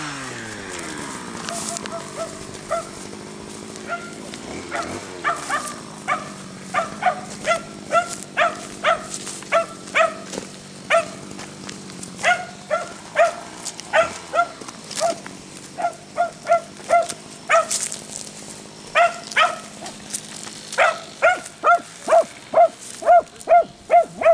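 A search-and-rescue dog at a rescue dog competition barks repeatedly in quick, uneven bursts, growing denser and louder toward the end, with whining tones and some background voices earlier.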